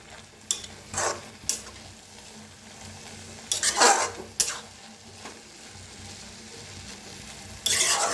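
Fenugreek leaves being stirred in a kadhai, a quiet low sizzle punctuated by a handful of separate scraping stir strokes and clinks, close by and without talk.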